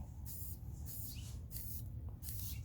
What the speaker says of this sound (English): So far, this can sprays pretty good.